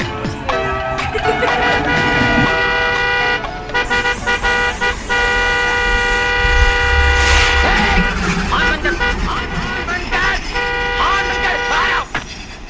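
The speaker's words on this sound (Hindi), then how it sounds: "क्या हॉर्न पे हाथ चिपक गया?" A car horn honks repeatedly on a stuck-horn vehicle along a road trip, sustained blaring tones cutting in and out over engine and traffic noise, with voices talking nearby.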